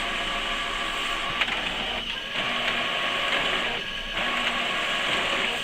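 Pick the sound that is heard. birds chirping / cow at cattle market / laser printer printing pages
laser printer printing pages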